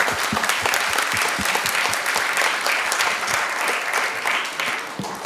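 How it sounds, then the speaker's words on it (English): An audience at an industry panel session gives steady, full applause throughout, with many overlapping claps from a sizable crowd. "So let's give everybody a round of applause."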